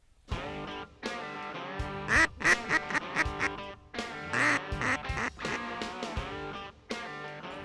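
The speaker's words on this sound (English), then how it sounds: "We hear the ducks quacking in the background." Ducks quack loudly and repeatedly in quick bursts, nearby and clear, with short pauses between calls.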